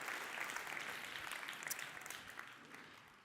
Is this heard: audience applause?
yes